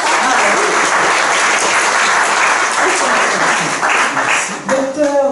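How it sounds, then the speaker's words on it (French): Audience applause at a rare-blood-group medical event, loud sustained clapping from a crowd that holds steady before tapering, with a voice emerging near the end. "Applaudissements."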